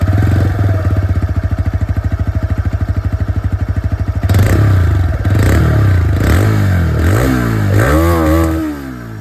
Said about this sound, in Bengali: এবার আপনাদেরকে আমি এক্সস্ট সাউন্ডটাও শুনিয়ে দিই।